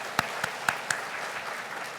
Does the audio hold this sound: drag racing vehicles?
no